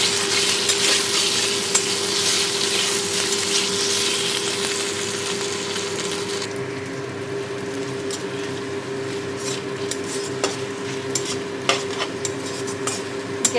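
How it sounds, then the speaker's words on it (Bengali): Ginger paste and bhetki fish sauté in a frying pan on a gas flame, sending up a loud continuous sizzle and hiss under steady stirring, with scattered spatula taps and no speech. "দুটোকে ভালো করে আমি কষিয়ে নেব।"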